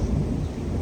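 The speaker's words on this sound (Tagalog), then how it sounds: "Kumukulog-kulog. Naririnig nyo ba?" Thunder rumbles over a terrace garden where an ampalaya plant grows, a short, deep, loud roll with no other sound.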